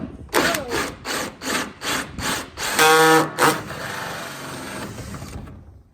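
A jigsaw cuts through the plastic top of an IBC tank, starting with a series of rhythmic buzzing bursts and then settling into a louder continuous rasping cut that fades near the end.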